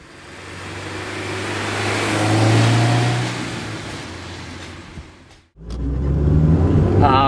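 A 2006 Honda S2000 convertible is driven, its engine droning and rising in a steady pull, then cutting out briefly before revving back up, heard close with no talking.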